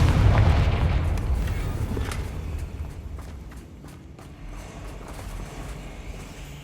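A Confringo fire spell blasts in the Hogwarts Legacy video game, a broad low boom at the start that rumbles and fades over several seconds, with faint scattered clicks afterward.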